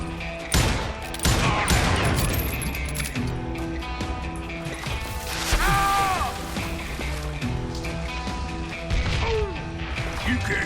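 Rapid bursts of gunfire, crashes and clinks in the Call of Juarez Gunslinger video game, loud and dense throughout, with game music and tones underneath.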